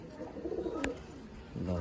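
Pigeons in a home loft in Chinsurah coo softly and close by, with a short sharp click in the middle and low background murmur.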